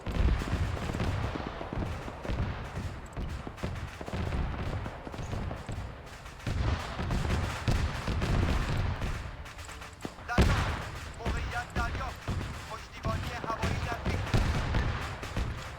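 Jet air strikes and gunfire rip across the northwestern side of an island in the military game Arma 3, a dense stream of rapid cracks and booming blasts that continues without a break, with a sharp heavy burst midway.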